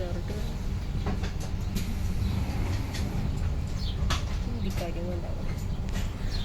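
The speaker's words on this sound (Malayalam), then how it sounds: "ഇതാണ് നമ്മുടെ റെയിൽവേ സ്റ്റേഷൻ" Railway station ambience in Italy with a train rumbling steadily nearby, clicking and clattering throughout, under faint background voices.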